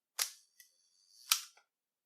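A Nikon F film camera fires its shutter on a wasted frame at a one-second speed: a sharp mechanical snap, a second of quiet, then a second clack as the shutter closes, close and clear with no talk.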